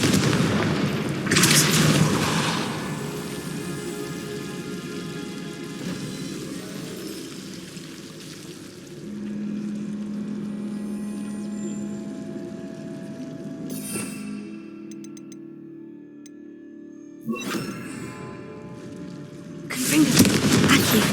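Blasting-spell explosions from the Hogwarts Legacy video game, several booming bursts at irregular moments over a steady game background, with a big blast near the start and more near the end.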